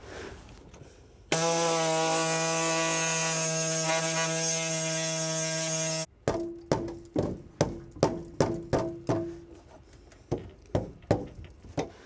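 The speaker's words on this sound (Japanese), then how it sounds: "これがエアのノコギリになるんですね。" A loud, steady pneumatic whine runs for several seconds, then stops. It gives way to a series of sharp, rhythmic mechanical bursts as an air saw cuts a Nissan Skyline floor panel in short strokes.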